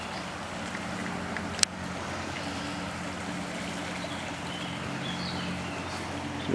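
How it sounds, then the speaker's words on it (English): A creek in Camillus, New York, flooded over its banks after heavy rain, giving a constant broad rush of flowing water with wind noise on the microphone and one sharp click partway through. "Now Mile Creek's over its banks."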